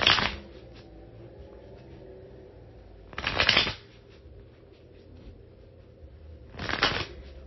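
Tarot cards are shuffled in three separate short riffling bursts, spaced a few seconds apart, close and fairly soft against a quiet room.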